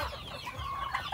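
Chickens cluck close by in a short, continuous burst of soft, busy clucking with no talking.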